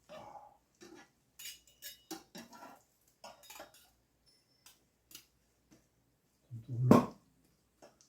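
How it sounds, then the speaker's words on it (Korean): Eggs cooking over a homemade fireplace give sparse, light ticking pops and crackles, then a single louder burst, heard close up with no talking. "굽는 계란 터지는 소리."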